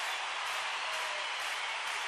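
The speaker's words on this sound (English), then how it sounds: "Kashmir stadium crowd thing." Stadium crowd cheering sample used in a house music production, a continuous loud roar of many voices holding steady.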